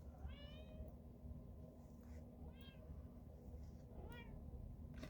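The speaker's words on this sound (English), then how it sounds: "Kitty says, meow, meow." A cat meows three times in short, evenly spaced calls, faint and somewhat distant over a steady low background hum, with no voices.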